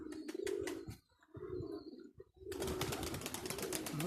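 Pigeons flying in strong wind call in short coos and chirps, with bursts of gusty noise and a brief lull before the wind roars back loud and steady.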